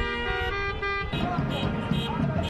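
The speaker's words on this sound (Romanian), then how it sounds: "iar șoferii au condus cu viteză minimă și claxonând" Car horns honk in slow protest traffic in Vienna, a steady sustained blare at first, then overlapping toots and honks from several vehicles over a continuous street din.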